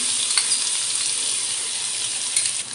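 Ground masala frying in a mustard seed and cumin tempering, a steady close sizzle with faint stirring scrapes and no talk.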